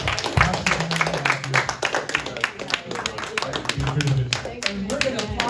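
Audience clapping at a film convention panel, uneven and mixed with cheers, whoops and voices throughout, fairly loud and close.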